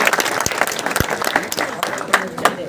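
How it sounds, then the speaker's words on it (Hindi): A village gathering marking Pandit Deendayal Upadhyaya's birth anniversary claps for the children, loose uneven handclaps with individual sharp claps standing out, fairly near, with faint voices mixed in. "इनके नाम से जोरदार तालियां"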